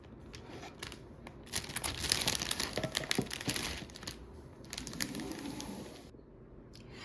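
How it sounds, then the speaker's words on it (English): Candles being dropped into a crinkly paper gift bag, close rustling and crinkling in irregular bursts with soft knocks, quieter at the start and end. "I'm going to gather the candles and put them inside the gift bag."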